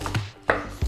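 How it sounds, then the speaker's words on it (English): A knife thinly slices the leaf ends of a vegetable on a cutting board, three quick crisp chops close up in under a second. "we just want to thinly slice"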